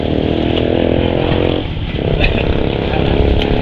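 A motorcycle engine drones close by as it passes through shallow floodwater, dipping briefly in pitch midway before picking back up into a steady, buzzing run.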